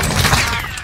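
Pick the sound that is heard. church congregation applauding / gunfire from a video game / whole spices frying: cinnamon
gunfire from a video game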